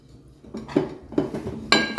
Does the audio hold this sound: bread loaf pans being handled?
yes